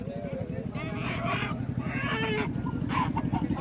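Hens at a poultry market cluck and chatter in a busy crowd, with a faint crow somewhere in the mix, all under steady nearby talking and market hubbub.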